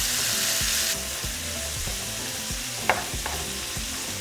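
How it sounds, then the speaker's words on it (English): Seasoned beef browns in a pan as a continuous sizzle under a repeating low rhythmic thump, with one sharp metallic clink near the end and no talking. "we're just going to brown our meat"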